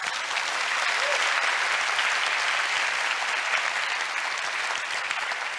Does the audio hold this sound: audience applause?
yes